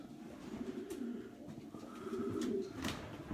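Pigeons in individual breeding pens in a loft give soft, low rolling coos, a continuous murmur close by with a few faint higher chirps over it.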